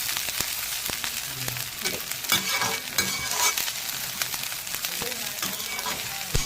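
Vegetables fry in mustard oil for dhekiya fern bhaji, a steady broadband sizzle with scattered scraping stirs and clicks of a utensil against the pan, fairly close and unbroken.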